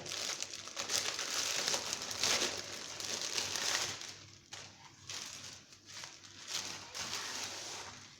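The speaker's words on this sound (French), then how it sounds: "Donc les feuilles de briques." Thin sheets of brick pastry crinkle and rustle as they are handled for a camembert recipe, a close, continuous papery crackling that comes and goes in short bursts.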